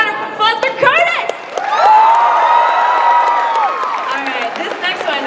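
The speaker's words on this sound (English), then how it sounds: "Let's give another round of applause for Curtis!" A convention crowd at an anime event's opening ceremony bursts into applause with cheers and shrill whoops, building to a sustained roar before tapering off, and voices shout throughout.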